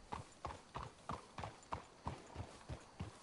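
Horse hooves clip-clop in a steady walking rhythm in the video game Red Dead Redemption 2, about ten evenly spaced hoof strikes, close and clear over a soft outdoor hiss.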